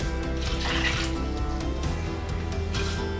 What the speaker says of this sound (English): put it in a saucepan with a cup of water and a tablespoon of rice.